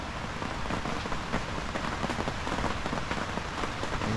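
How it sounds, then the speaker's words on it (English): Heavy rain in a rainforest pours steadily onto a taut canopy, a dense, unbroken drumming hiss that stays loud and even throughout. "Listen to that rain."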